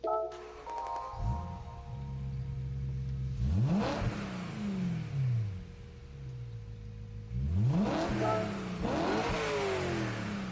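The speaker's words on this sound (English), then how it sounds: "we'll listen to the startup sound" A 2007 BMW M3 V8 engine in Gran Turismo 7 starts and revs in sharp rising and falling sweeps, with steady idle between bursts and a faint tone underneath; synthetic, game-like quality.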